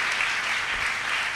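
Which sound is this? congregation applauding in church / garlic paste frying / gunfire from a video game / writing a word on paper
congregation applauding in church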